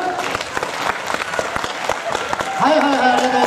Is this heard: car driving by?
no